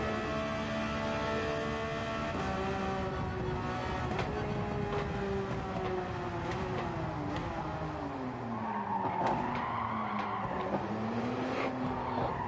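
Race car in Gran Turismo 7 revving through its gears, engine pitch rising and falling as it corners, with repeated tyre squeals and skids over a continuous motor drone and no voices.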